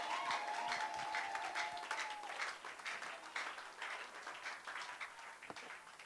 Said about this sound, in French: us clap for Jesus.